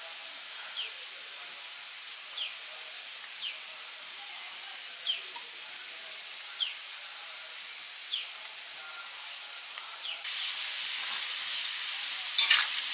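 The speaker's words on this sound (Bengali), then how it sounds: "আলু পোস্তর আলুগুলো ভাজা হয়ে গেছে" Potatoes frying in a pan for Bengali aloo posto give a steady, faint sizzle and hiss that runs throughout, with a few soft bird chirps in the background and a brief clatter near the end.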